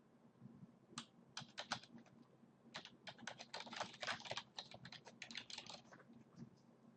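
Quick, uneven clicking of keys on a computer keyboard, typed in bursts with short pauses. The sound is quiet and close, and no voice is heard.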